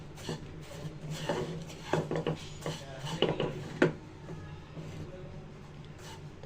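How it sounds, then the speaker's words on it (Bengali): Vermicelli frying with sugar and milk powder in a pan for a sweet semai dish, heard as dry scraping and rubbing strokes of a spoon against the pan with occasional knocks, close and fairly quiet, without clear sizzling. "গুঁড়া দুধ, চিনি, সেমাই একসাথে ভেজে নিব।"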